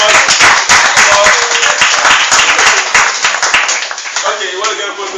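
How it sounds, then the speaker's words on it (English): Audience applause at a year-end youth poverty round-table session in Ghana, dense and steady clapping from a crowd with voices mixed in, fading slightly toward the end. "please help me give a big applause and say thank you very much"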